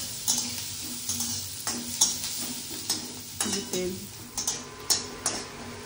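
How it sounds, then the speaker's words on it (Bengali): Onions frying in oil in a pan, with a soft sizzle underneath and repeated scraping strokes of a spatula in a roughly regular rhythm, close and moderately loud. "পেঁয়াজগুলো ভাজা ভাজা হয়ে গেছে"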